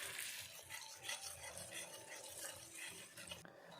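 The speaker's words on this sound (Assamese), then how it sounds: "ভালকৈ লৰাই লৈছোঁ।" Onions with ginger-garlic paste being stirred in a hot pan for a chicken curry, a steady scraping and sizzling that runs continuously at close range with no talking.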